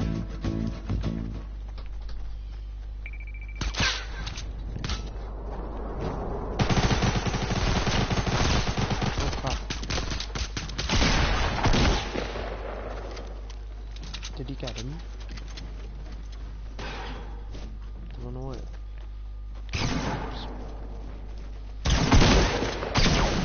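Gunfire from a fire gun in Fortnite crackles in rapid bursts across a busy game mix, with a player's voice talking over it at times.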